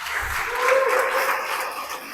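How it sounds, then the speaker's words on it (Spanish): A church audience claps during a sermon, a brief dense burst of applause that swells slightly and holds steady for about two seconds at close, fairly loud level. "dale un fuerte aplauso a Dios"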